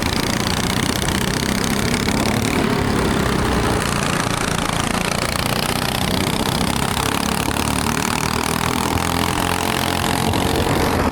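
Several go-karts in a 4SS trail race make a continuous dense engine buzz, loud and unbroken, with overlapping rising and falling pitches as the karts run close together.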